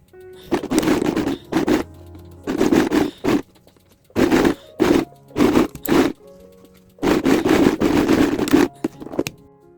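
A sewing machine stitches a zipper into a crossbody sling bag in several loud, close bursts of rapid mechanical whirring. Short quiet pauses separate the runs.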